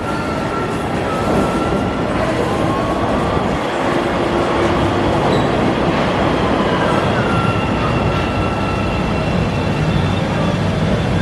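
Chicago transit train rolling along the rails, a loud continuous roar of wheels and carriage noise with faint squeals running through it, no speech.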